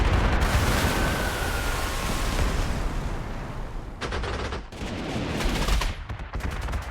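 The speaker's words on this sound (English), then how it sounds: "I hear shooting, but I'm not seeing anything" Dense gunfire in the WWII strategy game Panzer Corps 2: rapid, overlapping bursts like machine-gun and rifle volleys crackle continuously, loud and close, with heavier booming blasts mixed in and brief lulls between flurries.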